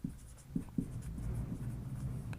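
Someone writes on a board during an organic chemistry lesson, making short scratchy strokes followed by a continuous scraping line, close and fairly quiet.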